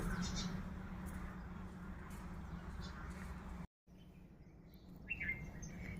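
Demoiselle cranes and other birds calling on an evening in Naliya taluka, Kutch, faint distant chirps and calls over a low steady background murmur, the sound briefly cutting out before a brighter call rises near the end.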